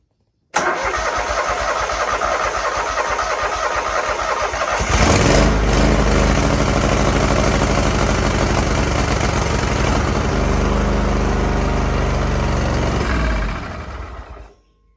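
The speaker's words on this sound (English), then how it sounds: "Now we'll do a crank on the engine." A Craftsman GT5000 riding mower engine cranks for several seconds, catches and roars up to a loud, steady run close by, then cuts off near the end.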